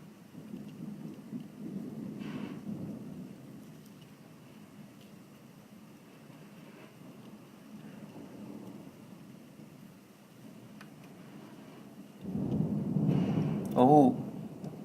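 Thunder during a strong thunderstorm at a home in Hoover, Alabama: a soft, distant rumble early on and a louder, closer roll near the end, over steady rain hiss with faint voices.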